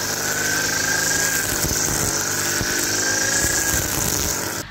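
A petrol-powered brush cutter runs steadily along a fence during a hay harvest, its high, buzzing engine close and loud with a constant whine and rough low rattle throughout.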